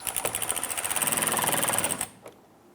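A new bolt with a washer is gently snugged down on the fender liner of a 2011-2021 Jeep Grand Cherokee, giving a quick run of rapid, buzzing ratchet-like clicks for about two seconds before stopping abruptly, close and fairly loud.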